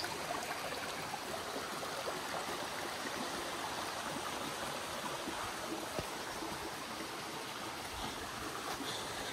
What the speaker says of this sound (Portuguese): Que pressão de água que tá saindo.